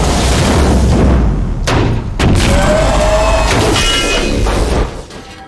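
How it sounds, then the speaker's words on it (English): Loud, sustained explosions in the video game We Happy Few, booming thuds and crashing blasts rolling one into another, with a sharp hit partway through before the noise drops away at the end. "After a bit more of explosions here and there"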